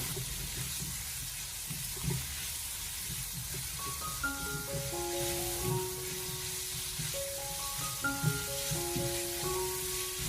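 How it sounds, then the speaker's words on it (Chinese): Pork belly sizzles in a little oil in a wok over low heat, a soft continuous crackle with faint scraping stirs. A musical tone plays over it midway. "锅里面添加少许的油，下翘的五花肉用小火给它翻炒一下，将五花肉炒至变色"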